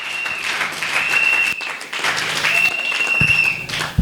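Church congregation applauding for God during a Sunday worship service, a steady broad wash of clapping lasting throughout with a brief dip midway, mixed with faint voices.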